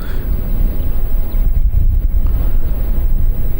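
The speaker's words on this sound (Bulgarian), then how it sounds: "Има изключително силен вятър насрещен" Strong headwind buffets the microphone during a motorcycle ride in a steady, loud low rumble, with gusty roaring throughout and no voices.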